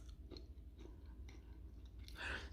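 Crunching on pre-soaked, dehydrated nuts, a few soft bites followed by one louder, crisp crunch near the end, close to the mouth.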